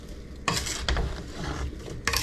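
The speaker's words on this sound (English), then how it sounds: "On medium-high heat, we'll give this a quick stir." A spiced pear mixture with ground allspice being stirred quickly in a pot over medium-high heat. Two or three bursts of scraping and sizzling come close up.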